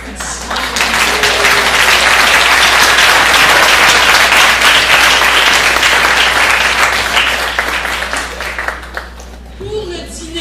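An audience applauds loudly and steadily for the panelists at a French-language panel on freedom of expression; the dense clapping fills most of the stretch, then thins and fades toward the end.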